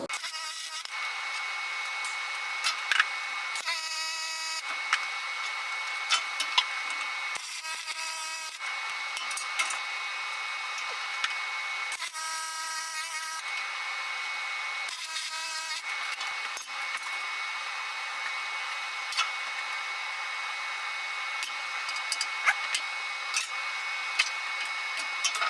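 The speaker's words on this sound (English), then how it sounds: "let's get to welding, guys" MIG welding on an aluminum cargo trailer cabinet, heard as several separate bursts of steady buzzing crackle, each a second or two long, between stretches of quieter shop hiss.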